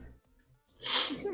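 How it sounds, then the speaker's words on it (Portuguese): A single sharp sneeze bursting out after a brief quiet pause, close and fairly loud, in a casual gaming livestream. "Vou espirrar, véi."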